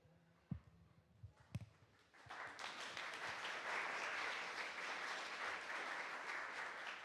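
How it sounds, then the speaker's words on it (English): Conference audience applause for a talk on plasma: a few isolated sounds at first, then dense, even clapping swells in after about two seconds and holds steady to the end. "A bit of latency before you're clapping."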